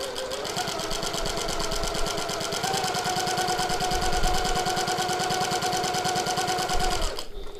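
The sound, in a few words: sewing machine top stitching a tote bag pocket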